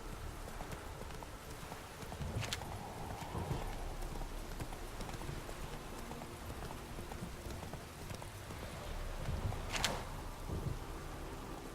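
Hooves of the horse Roach clip-clop steadily at a gallop in The Witcher 3, a continuous rhythmic pounding under a rumbling ambient bed with faint rain and distant thunder-like swells.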